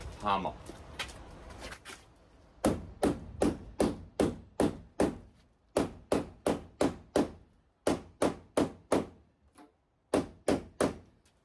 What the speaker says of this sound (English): I want to get my hammer.